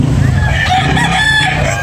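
Rooster, a white hatch gamecock, crowing once loudly and close, its drawn-out call over low background chatter.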